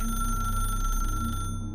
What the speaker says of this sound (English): but yet it rang, like an old-fashioned bell.